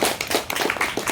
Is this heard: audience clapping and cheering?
yes